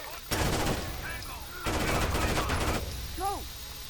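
Gunfire in the video game Rainbow Six Vegas 2 on the Vegas Junkyard map: dense bursts of rapid automatic shots in two main volleys, loud and close, with players' voices talking around and between them.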